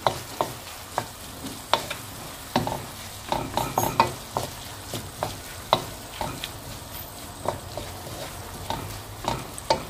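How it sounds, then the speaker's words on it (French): Carrots being stirred into ground meat frying in a pan, with a steady sizzle under sharp, repeated scrapes and clacks of a utensil against the pan at an uneven rhythm, close up and with no talking. "vous rajoutez les carottes. Vous mélangez."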